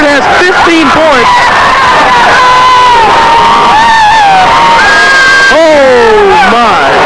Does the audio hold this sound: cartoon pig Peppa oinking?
no